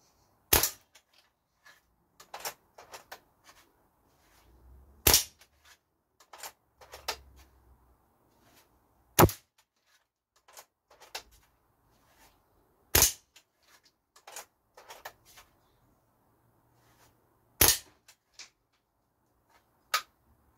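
A Reign M2 air pistol fired in speed shooting, sharp snapping shots spaced a few seconds apart with quieter handling clicks and rustles in between, close and dry.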